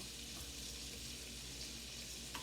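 Crab cakes fry in olive oil and butter in a pan, a soft, even sizzle with a faint crackle that stays steady and quiet throughout, with no talking.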